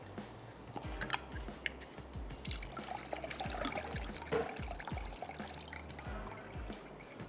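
Liquid drained from canned sliced mushrooms in a kitchen, a steady splashing pour and trickle with scattered clinks, moderately loud and continuous with no talking.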